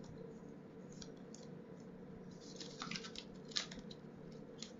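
Small scissors trim a strip of false eyelashes, making a few faint, crisp snips and clicks over a low, quiet background hum.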